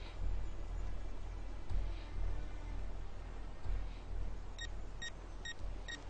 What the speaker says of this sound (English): Just a timer.